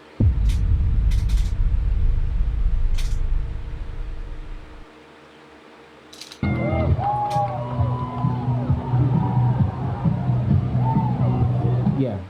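Crowd noise at a University of Utah campus outdoor event, a broad rumbling babble that drops away briefly mid-clip, then returns with clearer voices and a steady hum.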